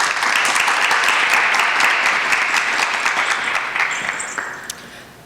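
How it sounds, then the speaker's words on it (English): An audience at a university indigenous rights event gives warm, dense applause to welcome a speaker to the stage, holding steady and then slowly fading out. "Please give her a warm welcome applause."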